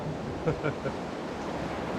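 Ocean waves pour in at high tide over coastal rocks on the Wonderland Trail in Acadia National Park, Maine, as a steady close wash of surf and rushing water with light wind noise.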